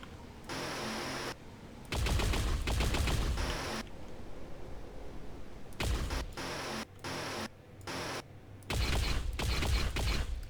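Gunfire and plasma weapon shots in the video game Unreal Tournament 4 come in loud rapid bursts of automatic fire, separated by short quiet gaps and a few single shots, with no talking.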